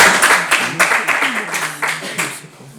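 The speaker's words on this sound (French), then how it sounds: "Pour Saint-Augustin, on peut toujours les applaudir." An audience applauds the Saint-Augustin team during a school quiz semi-final, with loud, steady clapping from many hands that fades near the end while a voice speaks underneath.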